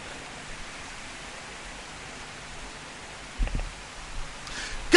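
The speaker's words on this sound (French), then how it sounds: "Dites pas que c'est le diable, c'est la pluie." Rain falling steadily during the rainy season, a soft even hiss with a few brief thumps and knocks near the end, no speech.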